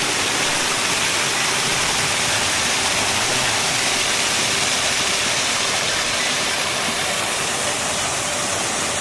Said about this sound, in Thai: เป็นวิวน้ำตก